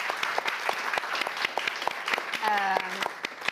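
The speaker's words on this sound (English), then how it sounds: "we should give you a round of applause" A college audience gives a round of applause for a newly appointed professor of astrophysics. The clapping is brisk and fairly close and fills the whole stretch, with a brief faint tone near the end.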